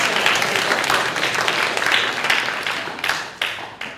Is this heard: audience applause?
yes